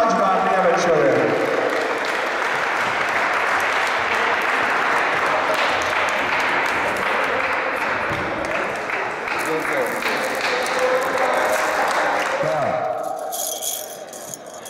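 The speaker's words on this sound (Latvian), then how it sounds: "Tad aplausi Matīsam, viņš tiešām atžbārni ieveč šodien." Audience applause at a basketball tournament award ceremony, a loud steady crowd of clapping hands with some rattling, lasting most of the clip before fading.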